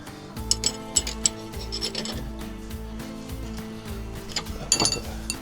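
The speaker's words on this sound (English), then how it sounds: "Ratcheting wrench. These are super handy." Ratcheting wrench turning a bolt during front upper control arm replacement on a Chrysler 300 or Dodge Charger, giving close, repeated clicking and rasping strokes in a steady rhythm, with a few sharper metallic knocks.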